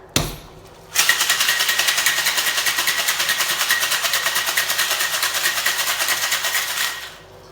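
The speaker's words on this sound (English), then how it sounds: "And then ice in your shaker and give it a good shake." A cocktail shaker packed with ice for a Long Island iced tea is shaken hard for about six seconds, a loud, close, rapid rhythmic rattle that starts abruptly and fades out at the end.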